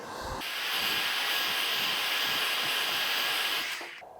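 A hair dryer blows steadily while hair is styled for volume, switching on with a loud airy whoosh, running evenly near the mic, then cutting off at the end.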